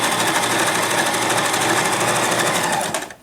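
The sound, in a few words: sewing machine back stitching a duck pillow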